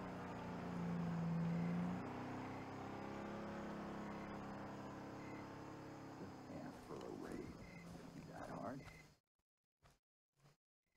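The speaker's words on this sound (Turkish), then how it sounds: "Araba geliyor" In Far Cry 3, a car engine drones steadily as the vehicle draws near, holding a low hum for several seconds before cutting off abruptly, with someone talking over it.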